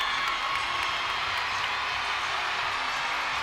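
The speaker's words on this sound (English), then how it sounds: "the crowd is roaring because 10s are coming up for Haley Bryant." A large crowd roars steadily at a college gymnastics meet during a beam routine, producing a dense, continuous wash of cheering and shouting from all around.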